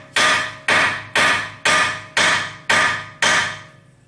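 Seven sharp metallic hammer blows struck on unthreaded bolt ends during repair of a 2014 Ford Fusion, evenly spaced about half a second apart, close and ringing briefly, no talk.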